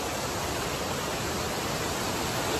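Water pours down a waterfall near Hyderabad where people bathe, a steady, unbroken rushing roar heard close up with no voices.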